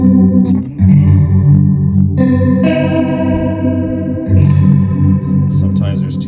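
A Hue multi-effect pedal from 3Degrees Audio stacks several pitch-shifted voices into a loud, dense, sustained wash. The layered tones shift and smear together into a thick, chorus-like mass that changes over several seconds.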